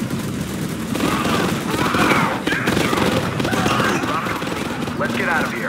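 Command & Conquer 3 battle gunfire, with rapid overlapping shots and bursts under a steady layer of game audio. Voices speak throughout.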